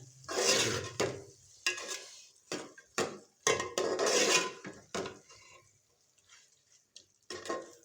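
Potatoes are tipped into a pot of mixed vegetable pulao, with a series of close clattering bursts of spoon and metal pot, separated by short quiet gaps.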